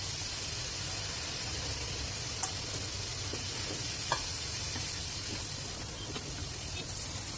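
Fried okra tossed into a pan of roasted spices, giving a steady soft sizzle with a few faint clinks, heard close and alone.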